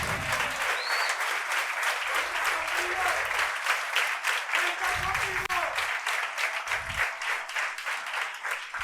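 A youth conference audience bursts into sustained, dense applause for nearly nine seconds, with shouts and cheering voices rising through the clapping.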